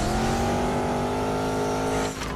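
Fast racing cars in the mobile game Need for Speed Mobile, with a loud, steady high-revving engine drone and faint tire noise, close and continuous before dipping at the end.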